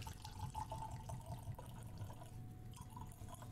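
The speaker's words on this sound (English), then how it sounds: "So we'll go ahead and pour a little bit in the glass." Quintaliza Reposado tequila, aged in a barrel seasoned with coffee grounds, pours into a glass with a steady close trickle and light dripping over a low background hum.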